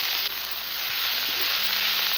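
Boiled banana flower sizzles steadily in hot oil with panch phoron, ginger and green chili paste, a soft, even frying hiss with faint clinks in the background.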